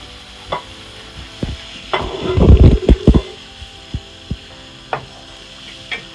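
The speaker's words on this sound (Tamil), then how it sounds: "வறுத்து வச்ச ரவையை இதில் போட்டு இதில் போட்டு கிண்ட கிண்ட வேண்டியது" Roasted semolina is stirred into boiling water for Thanjavur kesari, a burst of bubbling and spatter in the middle amid scattered sharp spoon knocks against the pan, close and intermittent.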